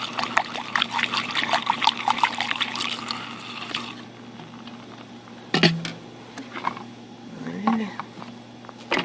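Gasoline is poured into a container during a road test of ignition wires with a spark booster, a close trickling splash for about four seconds, followed by quieter handling clicks and knocks.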